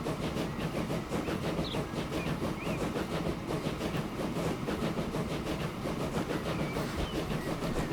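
A train rolls steadily along in the Transport Fever 2 video game, a constant rumbling clatter with rhythmic wheel clicks, dense and unbroken for eight seconds, no voices over it.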